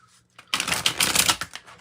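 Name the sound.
tarot cards being pulled and shuffled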